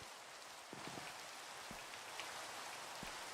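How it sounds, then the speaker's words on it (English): Rain falling in the video game Minecraft, modpack Oceanblock 2, a steady soft hiss of drops with a few brief low knocks, heard alone without talk. "It's raining."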